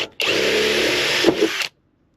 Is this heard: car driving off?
no